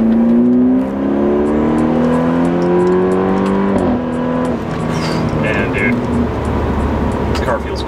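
A BMW running a Bootmod3 tune pulls hard in third gear, its engine note climbing steadily in a loud, rising drone before a shift and settling into a lower road roar, with speech briefly over it.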